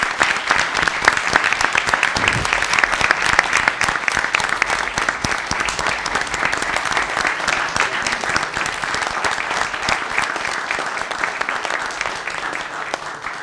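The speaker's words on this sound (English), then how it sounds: "I just want everybody to give you a round of applause and a standing ovation" An audience at a city council meeting breaks into sustained applause, dense and loud, with clapping continuing steadily for several seconds before easing slightly toward the end.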